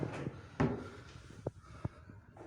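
Deep drawer of an acrylic bathroom cabinet opening and closing, close and fairly quiet, with a sliding rumble followed by several sharp knocks and clicks, no talk.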